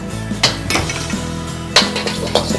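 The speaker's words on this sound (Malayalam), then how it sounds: "ഡ്രൈ ആയിട്ടുള്ള ജിഞ്ചർ ഗാർലിക് ഗ്രീൻ ചില്ലി സോട്ടായിട്ടുണ്ട്" Metal utensils clink and scrape against a pan as garlic, ginger and green chili are sautéed in oil, with a few sharp knocks over a low background hum.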